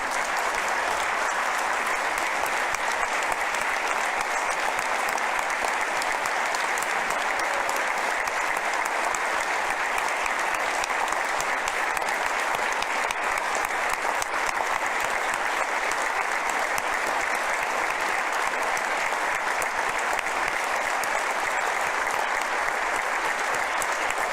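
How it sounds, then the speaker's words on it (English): Long, sustained applause from a large crowd at a state of the state address, dense steady clapping that holds at an even level for over twenty seconds. "We'll give you a round of applause, but don't sit down."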